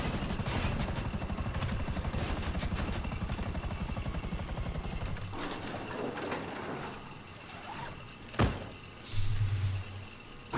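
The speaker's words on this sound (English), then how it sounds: "Okay, this isn't ending well for this helicopter." A helicopter engine in a video game, stalling: a dense rhythmic rotor thrum that cuts out halfway, leaving mechanical clanks and a couple of thuds near the end, with no talk.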